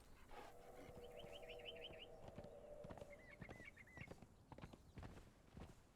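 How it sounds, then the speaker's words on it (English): Horse hooves clip-clopping as a rider travels in the survival game Conan Exiles, a steady soft rhythm of footfalls under ambient game sound with some bird-like chirps, moderately quiet and no talking. "we will be riding our horse"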